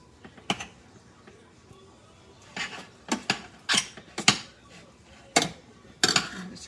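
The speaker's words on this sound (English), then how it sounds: "Break this cream cheese up a little bit." Utensil breaking up cream cheese in a pan for a chicken dip, giving irregular clinks and scrapes of metal against the cookware, sharp taps scattered over a quiet kitchen background.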